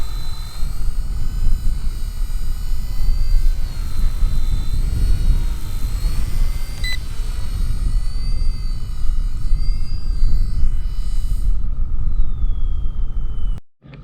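A small 1/48 scale RC ERA C032 Huey radio-controlled helicopter flies in close with a loud, steady whine and rotor buzz, then the motor abruptly cuts out as it lands.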